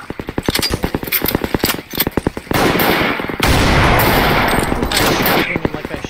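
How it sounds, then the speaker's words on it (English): Enemy gunfire in the video game Garry's Mod: rapid automatic bursts of loud, sharp shots in quick rhythmic volleys, followed by a sustained dense roar of continuous fire. "No, he's shooting at me."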